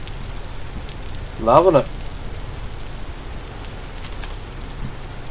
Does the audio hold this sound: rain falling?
yes